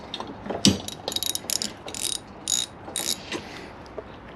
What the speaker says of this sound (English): Craftsman socket set